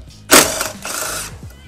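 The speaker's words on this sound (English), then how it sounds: "So I'll start by undoing the ground." A ratchet loosens the ground terminal on a 2015 Mazda 6 battery, one sharp burst of close metallic clicking followed by a shorter second run of ratcheting, loud in a quiet setting.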